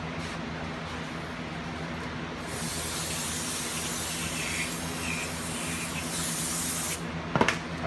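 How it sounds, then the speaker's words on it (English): Brake cleaner sprays from an aerosol can onto a wheel hub in one steady hiss lasting several seconds, close up, ending with a brief clatter and no talking. "Brake clean is Matthew's absolute favorite item to clean with"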